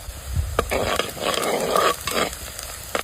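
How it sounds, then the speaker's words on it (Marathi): Chopped onion with cumin seeds sautéing in a hot pan, a crackling sizzle broken by several clattering stirs and scrapes close by, without talk. "चॉप केलेला कांदा व्यवस्थित परतून घेऊ।"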